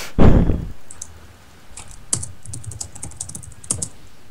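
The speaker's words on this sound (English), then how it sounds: "I only hear you clicking incessantly." Computer keyboard and mouse clicking while gaming, a loud thump at the start followed by rapid irregular clicks and key taps close to the microphone.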